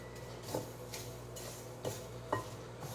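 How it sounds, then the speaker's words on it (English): A spoon scrapes and knocks against a bowl while oats are stirred into oatmeal cookie dough, soft close strokes with a few sharper taps, no voices. "While that's doing that, I'll mix these oats in."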